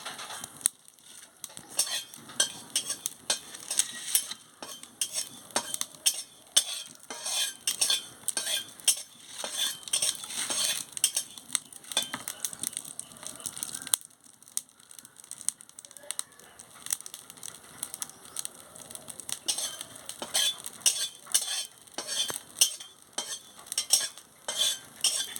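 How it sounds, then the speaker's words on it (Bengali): Cumin seeds frying in a hot pan on a stove, stirred repeatedly so a spoon scrapes and clinks against the metal in quick irregular bursts over a soft sizzle, with a brief pause partway through. "আমি জিরেটা ভেজে নিচ্ছি।"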